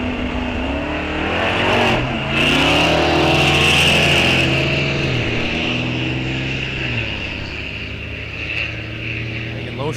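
Drag race cars launching at Rock Falls Raceway, among them a 1955 Chevrolet, roar loudly with rising and falling engine revs and gear changes, while an announcer's voice carries over the noise.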